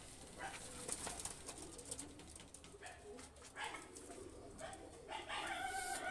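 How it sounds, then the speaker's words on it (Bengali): Jonsira teddy pigeons give low, repeated coos at close range over quiet outdoor ambience, with a dog barking faintly in the distance. "দুইটা কবুতর খুবই ভালো মানের কবুতর।"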